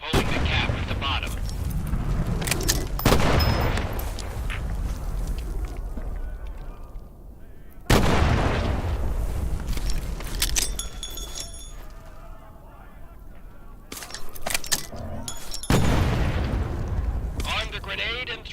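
German Stielhandgranate stick grenades exploding in the Medal of Honor VR game, three loud, booming blasts spaced several seconds apart, each followed by a rumbling, debris-filled decay, with a voice speaking between them.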